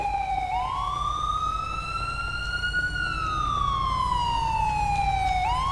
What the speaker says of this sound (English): It's probably my siren that's been left on